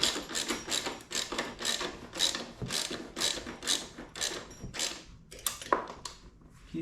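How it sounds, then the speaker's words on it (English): A 19 mm socket ratchet tightening a bolt on the rear fender bracket of an FL350 motorcycle, a close rapid clicking in short repeated bursts with a steady back-and-forth rhythm. "I got a, what is this, 19 millimeter socket. I'm just going to tighten it."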